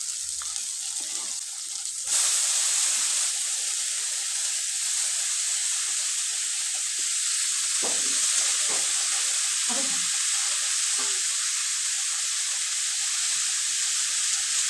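Cabbage and potato pieces sizzle steadily in hot oil in a pan after being tipped in at about two seconds, a loud continuous frying hiss with a few stirring knocks.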